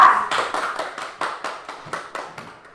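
A classroom applauds a student group with evenly spaced, rhythmic claps that start strong and gradually soften, with no voices over them.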